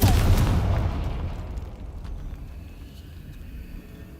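A Confringo blasting spell explodes in the Hogwarts video game, one loud, close boom at the start that rolls off into a long fading rumble.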